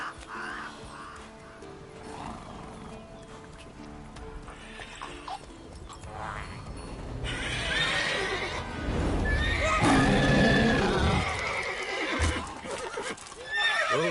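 Roach, Geralt's horse in The Witcher 3 game, whinnies loudly amid steady hoof clip-clop, with rustling game ambience and rising intensity toward the end; no talking.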